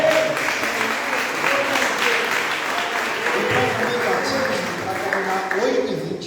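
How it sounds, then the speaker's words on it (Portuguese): A church congregation breaks into sustained applause, dense clapping filling the room steadily from start to finish, with a few voices and murmurs mixed in. "Eu gostaria que essa igreja desse uma salva de palmas."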